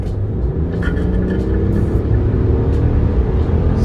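A heavy 2025 RAM Laramie pickup with a 420-horsepower engine is floored from about 36 mph. Its loud, continuous engine roar is heard from inside the cabin and builds steadily throughout.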